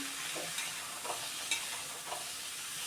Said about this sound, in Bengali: এবার সব কিছু দিয়ে ভালো করে কষিয়ে নিচ্ছি।